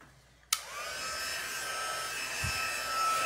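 A heat embossing tool switches on sharply and blows a steady, loud whirring hiss while heating embossing powder on a handmade Stampin' Up card, holding its drone to the end.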